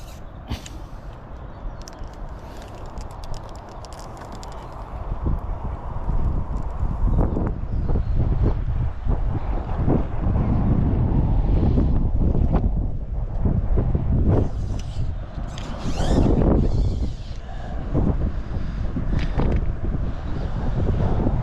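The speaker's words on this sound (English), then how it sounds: "that wind is a lot nastier than it was yesterday" Strong gusty wind buffeting the microphone at a fishing lake on a match fishing venue, a loud continuous roar rising and falling in waves across the whole stretch with no talk.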